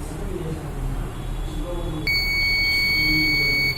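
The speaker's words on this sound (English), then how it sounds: "the buzzer will make sound." A buzzer on a smart pillow health-sensing biomedical project sounds at about the two-second mark, a steady high electronic tone that holds to the end, set against low background noise and faint speech.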